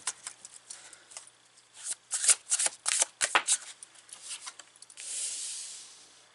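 Tarot cards are riffled and shuffled in quick bursts of crisp flutters, close and fairly loud, ending in a longer soft hiss of sliding cards, no voices.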